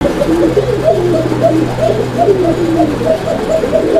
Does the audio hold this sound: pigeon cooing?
yes